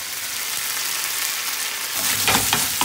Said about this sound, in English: the red curry paste will continue to fry and cook.